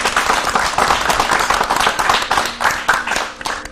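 An audience claps in dense, steady applause at a school tongue-twister contest, the many hands close and lively throughout, with slight dips and swells and no talking.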